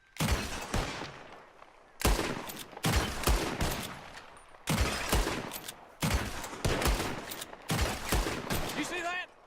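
Gunfire in the video game Red Dead Redemption 2 comes in repeated bursts of loud, sharp volleys about every second or two, with overlapping shots and echoes and some game voices mixed in.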